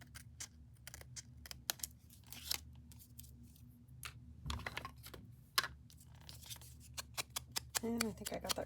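Scissors snip paper for a rust orange and olive green paper craft in a string of short, sharp, close cuts with quiet gaps between them.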